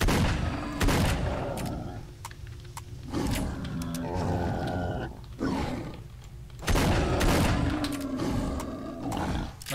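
Gunfire in S.T.A.L.K.E.R.: Shadow of Chernobyl, loud bursts of shots and blasts with booming reverberant tails and heavy rumbling, repeating through the passage with no talk over it.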